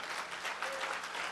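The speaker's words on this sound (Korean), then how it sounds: "우리 하나님께 영광의 박수" Congregation applauding during a church revival service in New York, a short, even burst of many hands clapping together, moderately loud and continuous without any talking.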